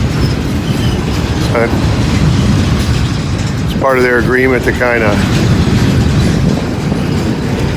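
Southbound Norfolk Southern freight train rolling along a CSX line, a steady close rumble of wheels and cars running throughout, with a brief horn-like tonal burst partway through while someone talks over it.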